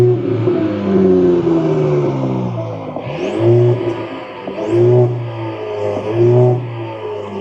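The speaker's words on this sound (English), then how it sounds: "There's your exhaust tips right there. Let's see what that sounds like." Mercedes-Benz E350 4MATIC wagon, heard from behind at the exhaust tips, idles with a smooth low hum and rises in three separate revs, each swelling and falling back, with no talking.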